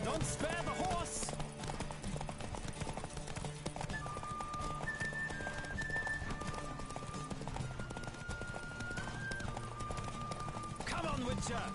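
Galloping hooves thud in a quick, continuous rhythm as a horse runs in The Witcher 3. The hoofbeats stay loud and close throughout, layered with music, and a voice talks over them.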